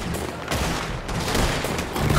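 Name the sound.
repeater rifle gunfire in Red Dead Redemption 2 video game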